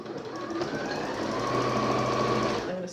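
Sewing machine running steadily as it stitches fabric for a button-up wallet, the presser foot edge guided along the fabric edge; a close, continuous mechanical whir for nearly three seconds, alone.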